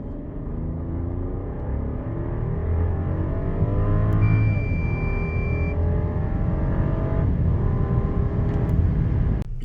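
A Rolls-Royce Cullinan Series II with a 6.75 V12 pulls away from a standstill, its engine rising through the gears in a smooth, building roar, with brief gearshift dips along the way.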